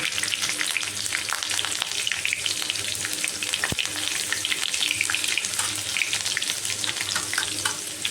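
Green chili paste, a red chili and curry leaves spitting and crackling in hot oil after cumin and mustard seeds, a dense continuous sizzle with one sharp pop midway.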